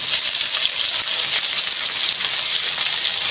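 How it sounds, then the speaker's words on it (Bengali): Spices for a panchmishali chorchori, with chili powder and a little sugar, fry in a pan with a loud, steady, close sizzle that holds without pause. "ভালো করে আমি ভাজবো"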